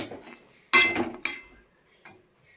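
A vegetarian vegetable curry with stem greens being stirred in a pan after sugar is added, heard as two loud scraping clatters of a spoon against the pan and then a faint tap.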